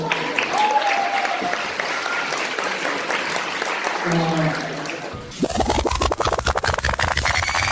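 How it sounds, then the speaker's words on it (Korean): Wedding guests at a Korean ceremony applauding as a guest is introduced, with a dense round of clapping and crowd voices, turning sharper and closer, with distinct individual claps in the final seconds. "여러분 박수로 모시겠습니다"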